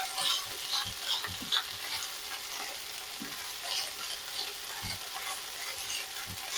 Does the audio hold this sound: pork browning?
yes